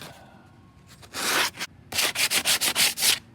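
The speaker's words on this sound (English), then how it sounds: "this stuff is totally hard. and ready to be sanded." Hardened Evercoat Formula 27 all-purpose filler being sanded on a damaged outdoor windowsill: one long scratchy stroke, then a quick run of about seven steady, rhythmic rasping strokes, close and fairly loud with no talking.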